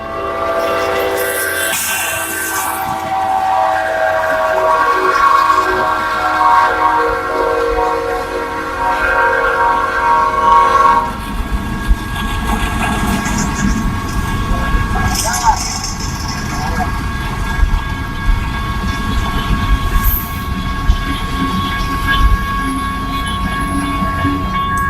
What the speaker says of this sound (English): the tiny hybrid didn't stand a chance against this speeding train